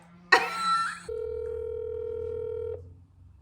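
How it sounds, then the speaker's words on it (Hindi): A telephone ringback tone sounds as a single steady, fairly loud hum for under two seconds, following a short burst of noise as a call goes through. "अभी कॉल जा रही है।"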